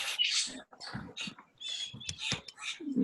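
A small blackbird, crow-like, gives harsh cawing calls outdoors at a bird observatory on Prince Edward Point, several rough bursts in quick succession, moderately close, with a person talking between them.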